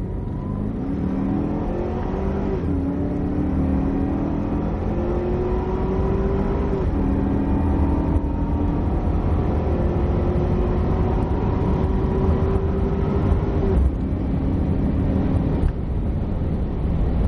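A Cadillac CTS-V Coupe accelerates out of a corner on a race circuit, its engine note rising steadily through several gear changes, loud and continuous throughout with no speech.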